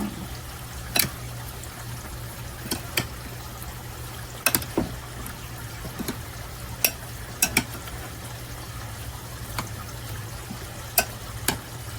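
A fresh summer salad being stirred in a bowl, with soft wet clicks and scrapes at irregular intervals over a low steady background hum.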